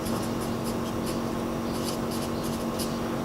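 Pen writing out a fraction on paper: soft, close scratching strokes in short bursts over a steady low hum, quiet and without talk.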